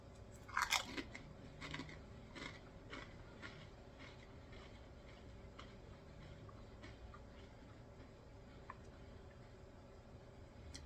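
Someone chews Pringles Smoky Cheddar potato crisps, with a sharp, loud crunch of biting at the start, then softer, repeated chewing crunches that fade into quiet, close mastication.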